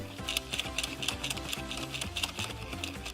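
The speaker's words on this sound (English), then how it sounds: "And then just start turning the gear." Plastic gear being cranked on a toy washing machine candy-making kit, giving a steady run of small rapid clicks and ticks, close and fairly quiet, with no talking.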